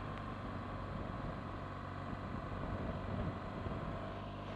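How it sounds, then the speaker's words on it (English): A Merlin aircraft engine gives a continuous low drone with a steady rumbling hum, fairly even in loudness throughout, no talking. "Sound of the Merlin engine, absolutely magic."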